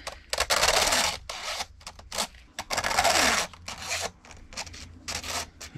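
A hand file rasps across a badly worn metal blade, rough scraping strokes in irregular bursts, close and fairly loud, with short pauses between passes.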